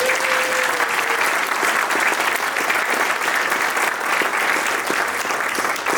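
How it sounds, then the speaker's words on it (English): An audience at the 2024 U.K. Red Special meetup gives a big, steady round of applause, dense, close clapping that holds at full strength throughout with no talking. "It's Steve McCullough, big round of applause."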